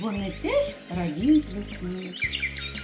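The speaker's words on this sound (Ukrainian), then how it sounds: "Це голоси птахів." Birdsong of spring forest birds, with chirps and whistled calls under a speaking voice, plus a steady low hum underneath.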